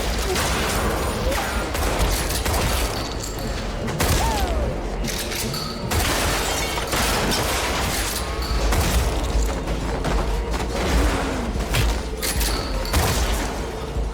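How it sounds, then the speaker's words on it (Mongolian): A film fight scene fills with a steady exchange of gunfire: dense bursts of shots and heavy booms run almost continuously and loudly, layered over a dramatic soundtrack. "дайснуудтай зогсоо зайгүй буудалцаж"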